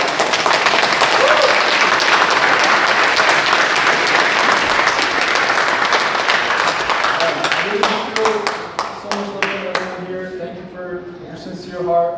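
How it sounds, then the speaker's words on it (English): Sustained, loud audience applause at a Seong Hwa ceremony fills the room, tapering off as harmonic voices and music rise toward the end. "Let's give him a round of applause."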